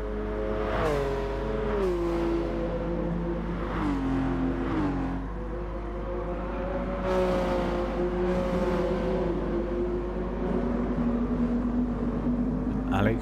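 Race cars in Gran Turismo Sport roar through a championship race, engines whining and shifting pitch as they accelerate and change gears, a steady loud drone of several cars close together.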